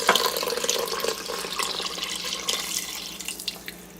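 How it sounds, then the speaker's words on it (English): Chicken broth pours into an Instant Pot, a close, steady liquid splashing and gurgling that tapers off toward the end, with no one talking. "And we're also going to add 4 cups of the chicken broth."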